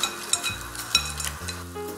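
Shrimp marinated in olive oil dropped into a hot pan, giving a steady close sizzle with a few sharp spits and pops as the pieces hit the oil and settle.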